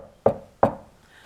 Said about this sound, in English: arrived at Grandma's house and knocked lightly on the door